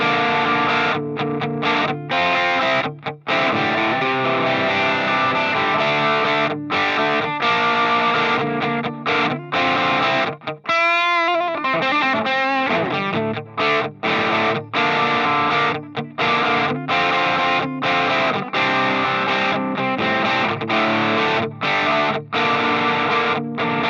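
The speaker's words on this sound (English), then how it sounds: "I'm actually just going to give it just a little bit of distortion here." Electric guitar played through an MXR Classic Distortion pedal with light, crunchy distortion, strummed chords and riffs continuing steadily, with a brief swirling effect sweep in the middle.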